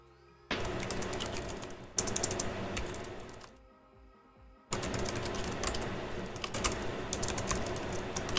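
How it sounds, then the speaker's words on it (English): Rapid typing on a computer keyboard clatters up close in steady bursts, with a brief quieter pause in the middle before the keystrokes resume just as busily. "quickly just typing to the dude"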